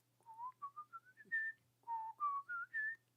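A person whistles a melody alone in two short rising phrases of clear, pitched notes, with a faint steady hum in the background.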